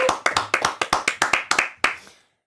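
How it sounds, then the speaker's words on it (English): Roughly ten sharp, evenly spaced hand claps from a small group on a baseball talk show, close and distinct, slowing slightly before a final clap and then silence. "Actually, I'm going to give him applause."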